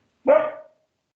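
A dog gives one short, sharp bark, close and fairly loud, then silence.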